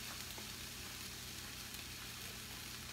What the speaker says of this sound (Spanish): Y se está dorando, ahí se está friendo